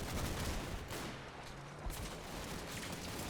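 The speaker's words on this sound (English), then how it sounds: "These MGs are what's hurting us." Distant machine gun fire in Combat Mission: Battle for Normandy, a World War II strategy game: faint, steady bursts of rattling shots over a low rumbling battle backdrop, with no voices.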